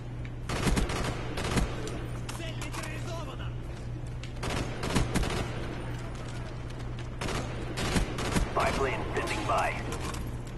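Sniper rifle gunfire in a multiplayer video game match, several sharp cracks spaced apart over steady background hum, with talk in between.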